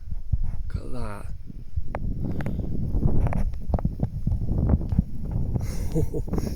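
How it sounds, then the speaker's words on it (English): Gusty wind buffets the microphone as a thunderstorm with torrential rain moves in, rumbling and roaring steadily for several seconds while people talk nearby. "It's getting windy."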